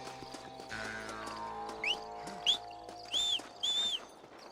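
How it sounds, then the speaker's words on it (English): Horse hooves clip-clop in the Western video game Red Dead Redemption, a soft steady plod under a low ambient drone, with a few brief high chirps and whinny-like calls toward the end. "Horsey."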